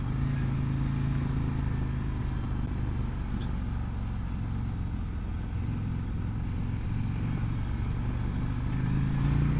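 A 2024 Harley-Davidson Road Glide motorcycle being ridden, its engine a steady, loud low drone mixed with wind rush that holds throughout without any clear revving, recorded from the bike itself with no one talking.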